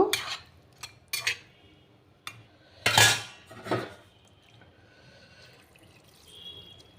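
Water is poured from a small vessel into a cooking pot of potatoes and cauliflower, with clinks of metal pots and utensils and short splashing bursts, close and fairly quiet, without speech.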